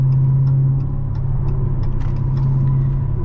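Deep, steady exhaust rumble from a 2020 Dodge Challenger Scat Pack Widebody, loud and close, droning evenly throughout with a low burbling tone.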